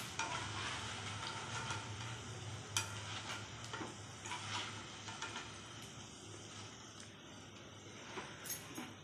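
Raw banana pakodas fry in hot oil, a steady faint sizzle with scattered pops and crackles and occasional light stirring clicks.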